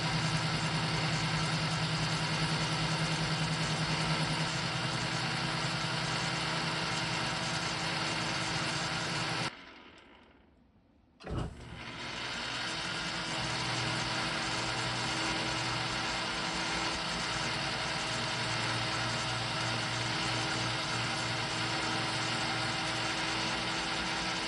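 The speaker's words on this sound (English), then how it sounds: "now we'll take the machine out of back gear and start machining it down until we get a cleaned up circle" A Kearney & Trecker milling machine machining a drive gear spacer, a steady loud mechanical drone and whine that stops for about two seconds and then starts up again, with no voices.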